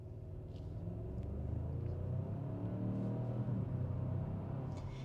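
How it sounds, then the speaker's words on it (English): Genesis G80 in sports driving mode giving a low, steady exhaust drone with a deep rumble that holds at an even level throughout, heard from inside the cabin with no talking. "you do get a half decent exhaust note"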